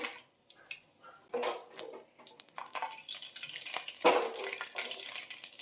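Whole garam masala spices fry in hot oil in a pan with a quiet, steady sizzle broken by occasional crackles and pops.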